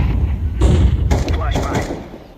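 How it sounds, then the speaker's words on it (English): Flashbang grenade thrown in Counter-Strike 2, landing as a couple of close, dull thuds with a bang-like burst over game noise and no speech. "Deploying flashbang."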